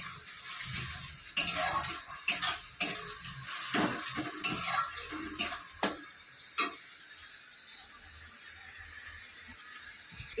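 Onions fry in a pan with spice paste added, giving a steady sizzle broken by sharp clinks and scrapes of a spoon stirring against the metal, close by and with no talking.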